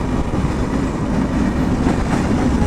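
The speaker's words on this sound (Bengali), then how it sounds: "এই যে ট্রেন যাচ্ছে" A passenger train bound for Balurghat passes close by, a loud continuous rumble of rolling wagons with faint rhythmic wheel clatter throughout, no voices heard.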